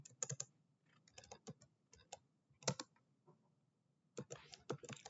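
Keys clatter on a computer keyboard in quick irregular bursts of typing, with short pauses between words, close and fairly quiet.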